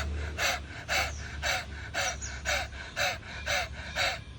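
A person does a panting breathing exercise with the tongue out, imitating a dog. About nine sharp, evenly spaced breaths come close and clear, each roughly half a second apart.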